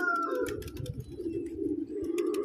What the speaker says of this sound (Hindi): देखिए रिवर्स ये कबूतर भी आ गया